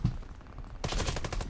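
Rapid video-game gunfire in Warface, an R8 and AM-17 in play: quiet at first, then from about the middle a dense, loud burst of overlapping shots rings on to the end.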